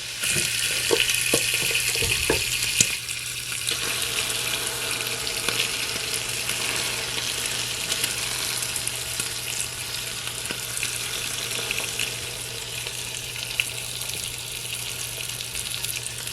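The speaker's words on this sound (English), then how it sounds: "The bacon looks like it is cooking nicely." Bacon strips frying in a Nostalgia MyMini sandwich and soup maker, giving a steady, close, even sizzle and crackle that runs without pause, with a few brief clicks and knocks near the start.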